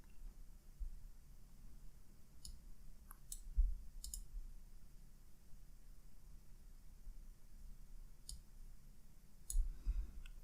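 A computer mouse clicks a few times, sharp single taps spread out over a quiet hum, faint and close, with no voices.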